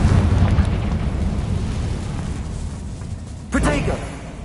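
A Confringo fire spell detonates in Hogwarts Legacy on PS5 with a rumbling blast that fades, then a sharper burst cracks near the end, while voices speak over it.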